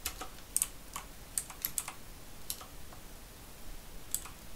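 Keyboard typing in the Roblox video game: scattered, crisp key clicks in short irregular bursts, fairly close and moderately loud, with no talking.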